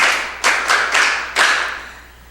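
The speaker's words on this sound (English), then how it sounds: "A round of applause for you." A small audience at a school quiz competition claps in brief, uneven bursts of a few sharp hand claps, close and moderately loud, fading out quickly.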